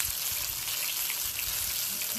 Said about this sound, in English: Can you hear that frying?